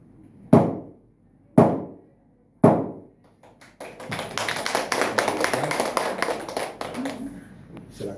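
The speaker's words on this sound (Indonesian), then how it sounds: "ditandai dengan ketukan palu 3 kali" A gavel strikes three sharp, evenly spaced knocks at a civil marriage registration in Jayapura, loud and close, followed by a burst of applause from the room.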